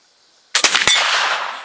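A single sharp rifle gunshot at a Hawken muzzleloader shooting event, a loud close crack followed by a lingering rolling echo, with no talk.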